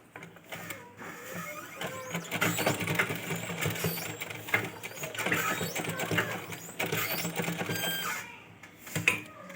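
A sewing machine runs back and forth to lock a stitch on a fancy baby gown, a close, steady mechanical whirring with brief stops and restarts.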